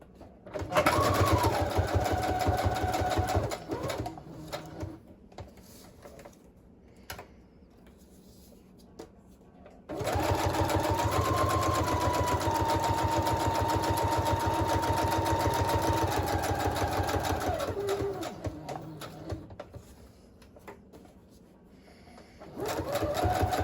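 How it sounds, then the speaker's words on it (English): A sewing machine stitches paper journal pages in two long runs, giving a steady rapid mechanical hum with a pause between them, close and clear. "we're going to sew these on just like we would a pocket"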